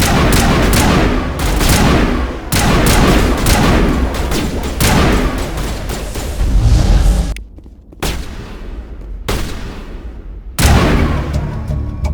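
Intense firefight in the Mass Effect video game: loud, dense bursts of rapid gunfire and booming impacts, with brief pauses between volleys and a short lull near the end before shooting resumes.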